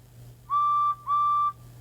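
Two loud, clear whistle blasts from Edward the Blue Engine, a steam locomotive, each about half a second long with a short gap between, steady in pitch over a low hum.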